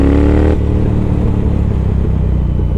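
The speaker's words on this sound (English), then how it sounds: "shorty cone exhaust." A modified Triumph Thruxton R with an X-pipe and shorty cone exhausts revs hard up close, then cuts off into a lower rumbling burble as the throttle closes, heard from the rider's helmet.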